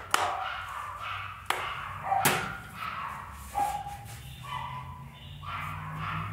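Female dogs barking and scuffling downstairs, sharp irregular yaps and thumps at moderate distance, with sporadic knocks and bangs.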